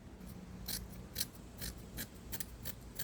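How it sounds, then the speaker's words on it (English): Scissors snip through marked tape on board a boat, a run of about eight crisp, close cuts at uneven intervals with a faint background hiss. "I'll be able to just cut that right out right now."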